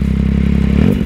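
Yamaha XSR900 motorcycle with its exhaust silencer removed, engine held at a loud, steady high rev with a deep rumbling drone and slight rise near the end, very close.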